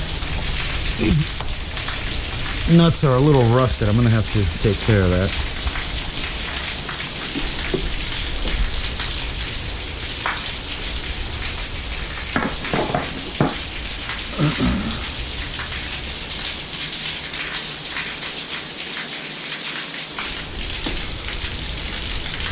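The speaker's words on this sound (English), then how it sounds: "that rain is really coming down right now" Heavy rain pours down steadily in a loud, constant hiss, with someone talking briefly over it partway through.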